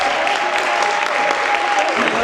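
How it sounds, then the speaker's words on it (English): An audience at an evening cultural princess pageant gives its royalty a dense, even round of applause that holds steady and fairly loud, with a faint crowd murmur in the background. "Please join me in giving all of our royalty a round of applause"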